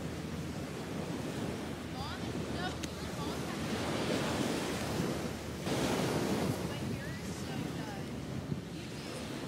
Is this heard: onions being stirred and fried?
no